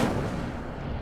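Casting the Incendio fire spell in Hogwarts Legacy produces a single close, heavy whoosh-burst that flares loudly and then fades out over about a second.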